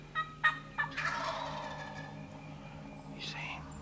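A wild turkey gobbler gobbles close by in spring woods, a rapid rattling burst after a few short sharp calls, followed by a fainter call near the end, with quiet ambience around it.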